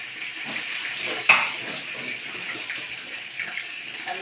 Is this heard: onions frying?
yes